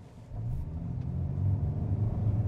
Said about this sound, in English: But this time we'll just floor it, no brake torquing,